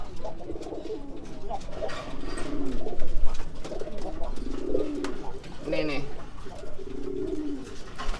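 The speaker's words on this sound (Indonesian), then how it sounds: "ini sama merpati baru yang belum dikasih nama" Racing pigeons coo in low, throaty bursts close by, repeating several times while someone speaks intermittently.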